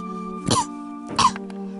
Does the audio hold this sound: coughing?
yes